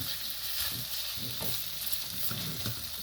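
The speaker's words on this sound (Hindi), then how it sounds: "अब मैं इसका चम्मच का इस्तेमाल कर रही हूँ कि इसका मसाला सारा आ जाए" Spoon stirring masala in hot ghee for chicken shawarma, a steady sizzle with rhythmic scraping strokes against the pan, close and continuous throughout.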